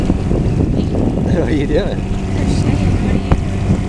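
Sailboat underway from Gulfport, Florida toward Fort Myers Beach, with steady wind rumble and water noise on the microphone throughout, close and fairly loud, while people talk briefly over it.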